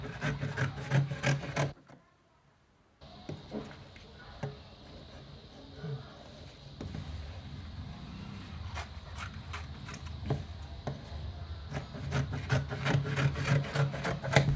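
Excess fabric being cut for an autogele headtie, with steady rubbing and snipping scissor noises that run almost continuously close up, broken by one short quiet pause.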